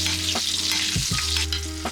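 Hot oil spooned over chicken or other meat crackling and sizzling steadily in a pan, with close metallic scrapes and spoon clinks breaking through the continuous frying hiss.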